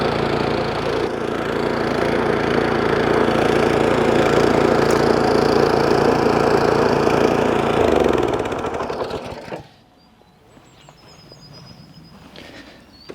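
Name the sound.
Hyundai HYSC210 petrol scarifier engine started and running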